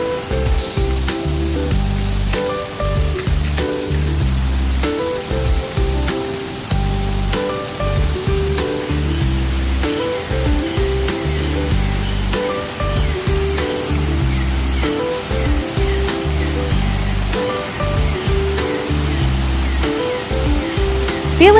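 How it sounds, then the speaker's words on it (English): Steady rain falls through the night at a riverside campsite at Draco Nature Camp, Chenderiang, a dense, continuous hiss close by with no pauses. "Rain continues till morning"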